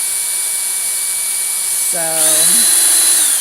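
A cordless power drill spins a dowel to wind yarn, its motor whine rising sharply in pitch as it speeds up after a brief spoken word, loud and close.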